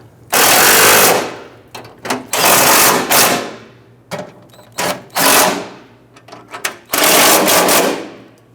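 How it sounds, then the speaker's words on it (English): A power tool snugs down bolts on the front fender of a 1997-2006 Jeep Wrangler, firing in loud, rattling bursts of varying length with short pauses between, close up. "Now let's snug down our bolts."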